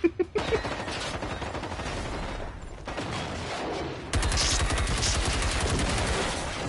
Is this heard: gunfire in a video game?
yes